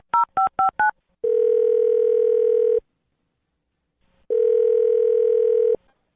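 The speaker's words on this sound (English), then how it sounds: "I'm going to dial this one over right now" A telephone is dialed. Four quick keypad tones come first, then two long, steady ringback tones separated by a pause, all clear and close with no talk.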